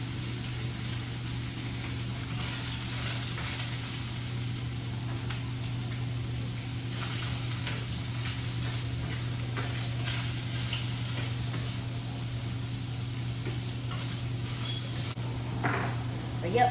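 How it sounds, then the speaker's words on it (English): Cut-up link sausage and bacon fry in a pan in a home kitchen, a steady close sizzle with faint stirring and crackles throughout, overlaid by a constant low hum. "I'm making sausage, the link sausage cut up, and some bacon"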